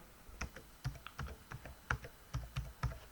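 A password is typed on a computer keyboard: a quiet, close run of uneven key clicks over about three seconds.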